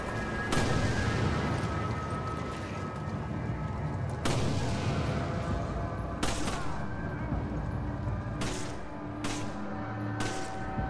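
Shotgun blasts in the Resident Evil 5 video game: about six loud, sharp reports spaced irregularly over steady game noise and background rumble.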